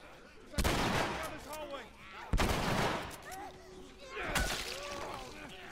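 Shotgun blasts in The Last of Us video game, three loud, sharp booms spaced a couple of seconds apart, each trailing into reverberant debris, with voices calling out between them.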